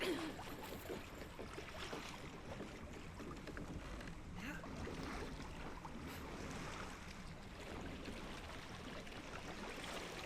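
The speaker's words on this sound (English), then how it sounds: "sounds like a boat" Continuous rush of water against a moving boat in Assassin's Creed Shadows, a steady wash of splashing and wind with no clear breaks.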